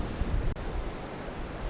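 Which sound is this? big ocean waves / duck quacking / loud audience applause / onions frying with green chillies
big ocean waves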